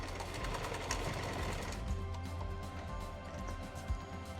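A sewing machine stitches down the end of an adjustment strap on a Tethrd tree-saddle recliner, running as a steady close mechanical whir with a low hum and small rhythmic ticks, and no one speaks over it.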